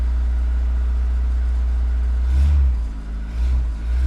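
A Volkswagen Cabriolet engine with a failing fuel pump rumbles steadily at idle just after starting, low and continuous, with a brief swell of revving partway through before settling back.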